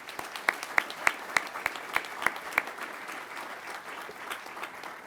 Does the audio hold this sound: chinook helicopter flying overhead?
no